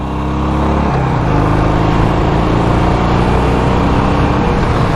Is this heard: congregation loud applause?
no